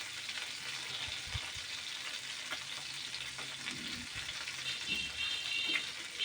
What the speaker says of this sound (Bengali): মাছগুলো এক এক করে এই তো আমার উল্টানো হয়ে যাচ্ছে প্রায়। বেশি কড়া ভাজবো না, হালকা করে ভাজবো।